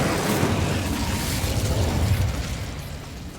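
Spells cast in the Hogwarts Legacy video game erupt in a loud, continuous blast of explosive roaring noise that stays dense and powerful before easing off slightly toward the end.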